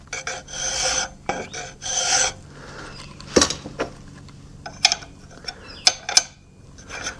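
An 11.8 mm drill is worked through a hole in a foundry moulding box, giving intermittent rasping, scraping bursts of metal cutting with short pauses between strokes, close and fairly loud, with no talking.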